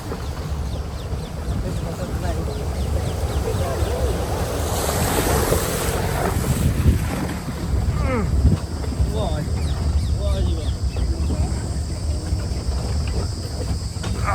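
River water flowing across a crossing where vehicles pass, on the road from Ferozepur toward Hemkund Sahib near Rajaji, with a broad steady rush like surf and wind noise throughout, no clear talk.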